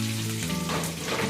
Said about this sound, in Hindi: तो पचफोड़न का मैंने तड़का लगा दिया है